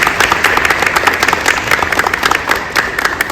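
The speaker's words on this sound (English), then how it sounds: "give them a round of applause also." An audience at a Chicago affordable housing community event gives a round of applause, dense and steady claps filling the room from start to finish at close range.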